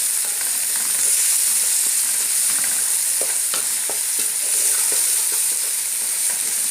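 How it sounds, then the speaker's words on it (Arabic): Chopped onion sautés quickly with spices in a hot pan, a loud steady sizzle close by with scattered scraping and stirring clicks throughout. "انا خدت كده البصله كده هشوحها تشويحه كده بسرعه مع البهارات"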